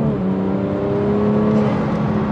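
A BMW 340i M Sport fitted with an MST intake revs steadily, its engine note loud and close with a smooth, rising hum and whir throughout.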